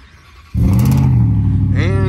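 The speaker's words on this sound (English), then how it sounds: "let's get the Raptor R started" A 2023 Ford Raptor R pickup with an S&B intake cold-starts after a brief quiet moment, the engine catching abruptly and settling into a loud, steady rumbling idle with a rising whine near the end.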